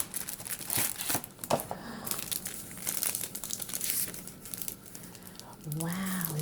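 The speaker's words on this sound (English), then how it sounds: "You can see that the notebook is inside a plastic wrap." Plastic wrap crinkles and crackles close by as a handmade leather journal is unpacked from its packaging, coming in irregular bursts of rustling, with a person talking at the end.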